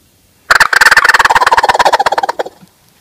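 A wooden Haint gobble call, shaken by hand, produces one loud, close turkey gobble: a quick rattling burst of rapid pulses lasting about two seconds and trailing off at the end.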